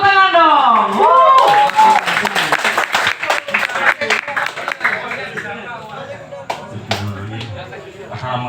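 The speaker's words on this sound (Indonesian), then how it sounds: "Tepuk tangan dong." Applause from a small audience after a poetry reading at a casual warung gathering in Surabaya, dense clapping at first that thins into scattered claps mixed with crowd murmur and talk.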